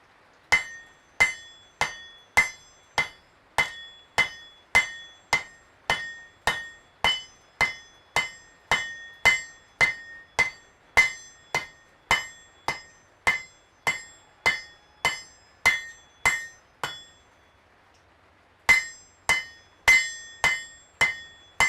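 Hammer blows ringing on hot metal at a smithy anvil while forging a 3/4 inch leaf, roughly two steady, evenly spaced strikes per second with bright metallic ring, pausing briefly before the rhythm resumes.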